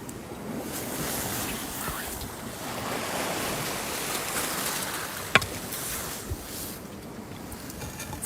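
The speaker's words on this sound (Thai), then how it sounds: "ชายทะเล" Ocean waves wash steadily onto a seashore in Thailand, a broad continuous roar of surf with gusts of wind buffeting the microphone and no voices.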